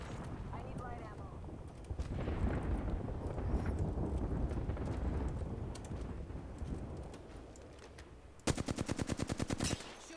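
Gunfire in an online shooter video game: rumbling battle noise, then a short, loud burst of rapid automatic shots near the end.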